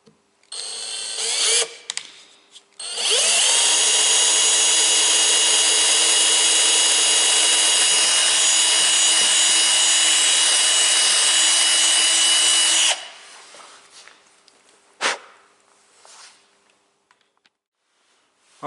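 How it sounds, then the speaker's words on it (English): A power drill bores a hole into a 00-9 scale model railway layout, a steady high whine lasting about ten seconds after a few short starts, then stopping abruptly, close and loud. "I've just drilled the hole out, and I'm happy with the size"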